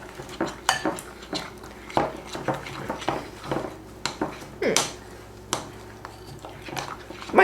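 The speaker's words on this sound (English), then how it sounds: "Let's mix it all up and see what it makes." A spoon stirs an icing mixture in a bowl for pumpkin muffins, giving a run of clinks and scrapes against the bowl at an irregular pace, close and fairly clear, with no talking.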